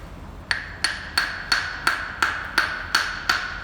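A hammer taps on an Allen key to knock acrylic teeth off a denture base: nine sharp metallic clicks at an even, unhurried pace, close and alone in a quiet room.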